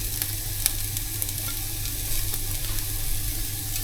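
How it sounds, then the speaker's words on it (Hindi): Julienned vegetables for spring rolls sautéing in a hot pan, a steady close sizzle with faint stirring scrapes and light crackles throughout. "थोड़ा सा आप इनको सौते कर लें आप एक साथ"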